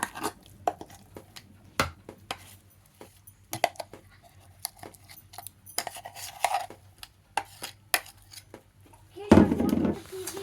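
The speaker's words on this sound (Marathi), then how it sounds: "हितून घालून मिक्स करता ती टर्मरीक" Turmeric being mixed into a coconut and coriander green chutney, with sharp, irregular clinks and scrapes of a utensil against a bowl, spaced sparsely and ending in a louder clatter.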